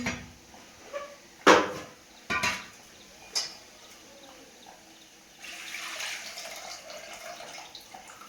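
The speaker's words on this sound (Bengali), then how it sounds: "আলুটা কেটে ভালো করে ধুয়ে নিলাম" Cut potatoes are washed with water in a kitchen: a few sharp knocks and clatters, then a stretch of running, splashing water toward the end, quiet and close.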